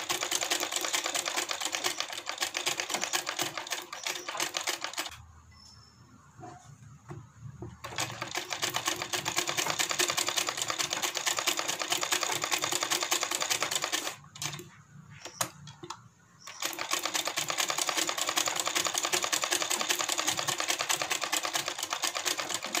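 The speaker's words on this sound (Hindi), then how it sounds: "अब इसके बीचों बीच हम एक पहले कच्चा सिलाई लगाएंगे।" A sewing machine stitches a basting seam on the back neck of a blouse, running steadily and loudly alone, with two pauses between bursts of stitching.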